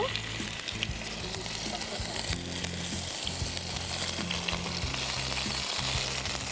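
Ginger paste frying in a hot pan on a television cooking-show stove gives a dense, steady sizzle that stays close and loud throughout, with no voices.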